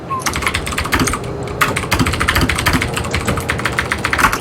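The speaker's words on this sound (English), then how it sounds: "Fear my loud keyboard" A loud computer keyboard is typed hard and fast, dense continuous clacking keystrokes close to the microphone throughout, with no clear talk.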